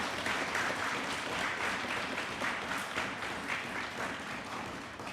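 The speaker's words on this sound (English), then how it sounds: "Let's give her a round of applause" Applause from the audience at a parliamentary-style debate sitting, a continuous, fairly faint and even roar of many clapping hands in a large chamber.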